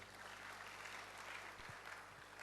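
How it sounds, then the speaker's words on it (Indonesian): Church congregation clapping for God during a service, a very faint, even wash of applause heard from a distance. "berikan tepuk tangan dulu bagi Tuhan."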